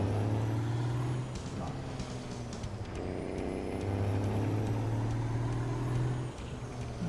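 A Detroit diesel truck engine drones in American Truck Simulator, a low steady rumble with a high whine rising over it. The sound dips briefly partway through and then returns at full level, with no talking.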